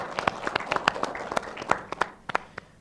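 A studio audience at a televised regional parliament dialogue forum in Banten claps in a short, sparse burst of distinct hand claps, fairly quiet and uneven.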